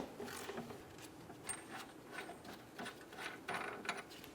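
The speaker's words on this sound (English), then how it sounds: "Using a 21mm socket, remove the nut for the outside bolt." A 21mm socket on a ratchet loosens the nut on a rear upper forward control arm bolt of a 2008-2017 Buick Enclave, giving quiet, rapid clicking in short bursts with pauses between them.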